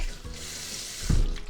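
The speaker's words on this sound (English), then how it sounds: "I'm just gonna rinse this with water to wash away the salt" Tap water rinsing salted daikon radish in a kitchen sink: a soft, steady rush of running water, with a brief louder splash near the end.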